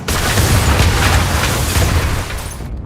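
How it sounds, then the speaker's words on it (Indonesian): A pressure-cooker bomb detonates in a film scene, a loud sustained boom with heavy low rumble and crackling debris that fills the whole stretch before cutting off abruptly. "bom panci yang sudah dipersiapkan Solotov sebelumnya meledak dan membuat Ishak terpental"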